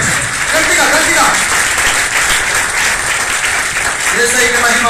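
Loud, steady applause from a congregation at a church fasting prayer meeting, dense clapping filling the whole stretch while a voice and music carry on beneath it.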